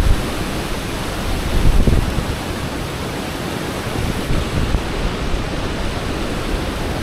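Rushing monsoon river water at Bhandardara in Maharashtra, a dense, steady roar of fast-flowing water with no break, loud and close, with no voices.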